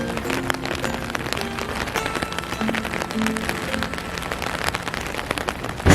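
Steady rain falls outdoors on a cold day in Tokyo, a dense continuous patter on surfaces with faint tonal street and shop sounds mixed in, ending with a brief louder knock.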